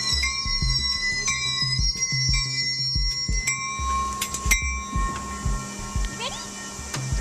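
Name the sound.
transit train pulling into the station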